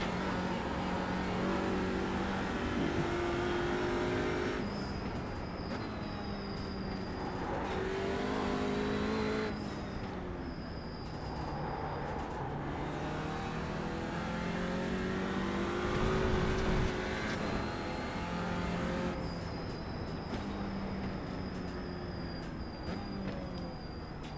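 Race car engine roaring steadily in the iRacing sim, a BMW touring car on cold tires and a cold track, revving up and down through gear shifts with a touch of tire squeal, loud and close with no talk.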